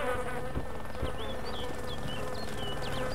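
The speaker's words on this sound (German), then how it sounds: "Hier summt's und brummt's überall, ja." Steady insect buzzing fills a forest-road area of a zombie survival video game, with a dense continuous hum and scattered higher chirps, moderately loud and with no talk.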